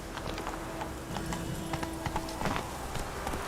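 Roach the horse trots in The Witcher 3: Wild Hunt, with a rhythmic clip-clop of hooves repeating at a close, moderate volume over soft ambient game sound.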